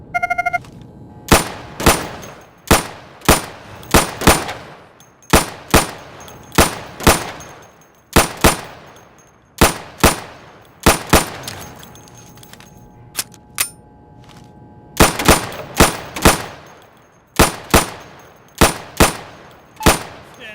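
Gunfire at a firing booth in Insurgency, a player taking down targets two hits each: sharp, loud shots in quick doubles and short bursts, repeated steadily across the range with brief pauses between groups.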